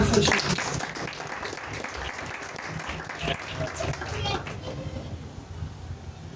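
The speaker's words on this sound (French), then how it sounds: "Acclame Jésus" A church congregation claps and cheers in a steady, dense wash of applause that fills the room, heard from within the crowd and slowly easing off toward the end.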